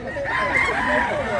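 Roosters crow up close at a market in Mantalungon, Cebu, one loud strained call sounding alone.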